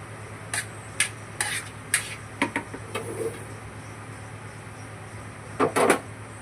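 Chopped onion drops into whisked curd in a bowl, making a series of soft taps and clinks from the spoon and bowl, with a low, steady hum underneath.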